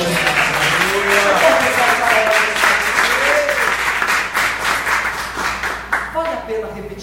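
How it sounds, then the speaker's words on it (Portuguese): Congregation applauding in a church service, steady dense clapping filling the room for several seconds, with voices singing and calling out over it, tapering near the end. "Você pode aplaudir."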